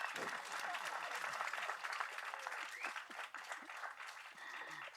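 An audience at a Tamil movie event claps, a dense, crackling burst of applause at modest volume, with voices mixed in beneath it.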